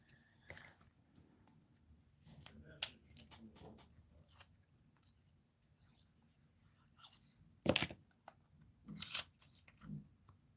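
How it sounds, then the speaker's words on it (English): Scissors snip through an old paper calendar in a few scattered cuts, with one sharp louder crunch near the middle and rustling paper handling between, close and quiet. "So what I'm going to do is cut this."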